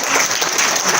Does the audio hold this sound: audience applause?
yes